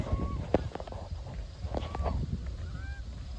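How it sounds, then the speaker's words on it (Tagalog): Geese honk repeatedly in the distance and nearby, calls overlapping against a rumbling outdoor background with occasional footsteps, at Harbour View Park in Winnipeg, Canada, during migration. "Migration na ng mga gansa."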